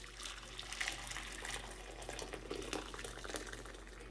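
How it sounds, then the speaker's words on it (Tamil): Water being poured off boiled toor dal in a cooking pot, a continuous splashing, gurgling trickle of liquid at close range with no talk. "இப்போ வேக வச்ச பருப்பை வந்து நம்ம தண்ணி எடுத்துடலாம்."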